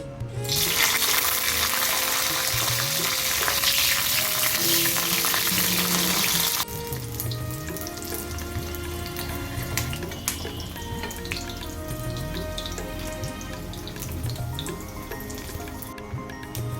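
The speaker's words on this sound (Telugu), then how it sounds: "ఆయిల్ వేడిన తర్వాత పచ్చిమిరపకాయలు ఫ్రై చేసుకోవాలి" Green chillies fry in hot oil in a pan with a loud, even sizzle that drops suddenly to a quieter crackle partway through, accompanied by faint scrapes and clinks.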